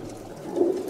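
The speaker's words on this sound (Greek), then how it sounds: "Τα περιστέρια του φίλου μας του Τσίμου στην Κοζάνη λίγο πριν νυχτώσει" Kozani pigeons of the upright-wing and dropping breeds coo briefly at dusk, one soft, low coo rising faintly over a steady outdoor hum, with no voices.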